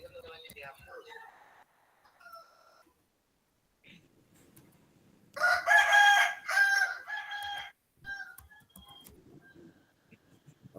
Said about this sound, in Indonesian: Apa ada suara ayam masuk tuh?